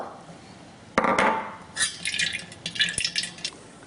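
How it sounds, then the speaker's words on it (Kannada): Thin tamarind pulp water is strained into a vessel, with a soft splash first and then scattered trickles and light clinks, close by. "ಆಮೇಲೆ ಇದನ್ನು ಒಂದು ಪಾತ್ರೆಗೆ ಸೋಸ್ಕೋಬೇಕು"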